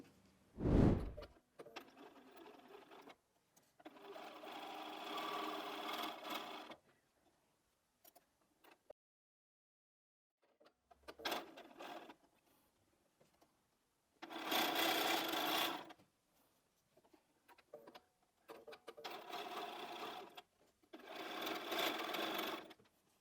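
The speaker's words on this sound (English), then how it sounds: "we're going to take these to the machine and just make our half square triangle units" Sewing machine stitching half square triangle quilt units for a friendship star block, running in several bursts of a few seconds each, separated by pauses and a sharp clack near the start.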